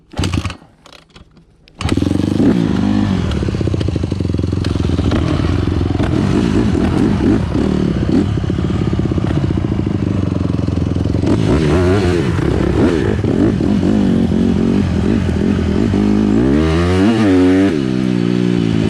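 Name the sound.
dirt bike engine starting and riding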